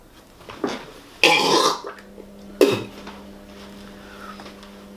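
A person burps during a protein-shake challenge, with two loud, brief bursts separated by about a second, close to the microphone in a quiet indoor room, with faint handling noises around them.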